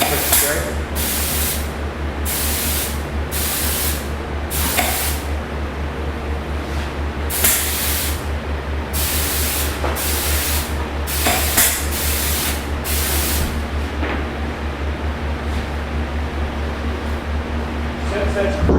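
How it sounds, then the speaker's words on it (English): Spray gun laying down finish in a shop, firing a series of short, loud, hissing bursts with brief pauses between them over a constant low mechanical hum, with some talk in the background. "Quick spray."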